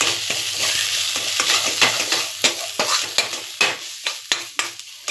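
Masala sundal with garam masala sizzles in a hot pan while a spoon stirs and scrapes repeatedly, the scraping strokes growing more distinct and rhythmic toward the end.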